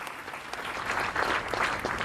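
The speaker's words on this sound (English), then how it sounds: "another round of applause for them." Sustained audience applause at a sports awards ceremony in Botswana, a dense wash of many hands clapping that swells slightly toward the end and fills the short stretch with no voices on top.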